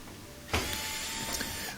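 A small Phillips head screw comes out of the cowling of an Electrolux dryer, heard as a close, loud motorized whir that starts abruptly and holds steady for just over a second before cutting off.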